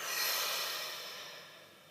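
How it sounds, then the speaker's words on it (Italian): A deep breath drawn in and let out, a single long airy exhale that swells early then slowly fades, close and soft with no talking. "facciamo un bel respiro profondo"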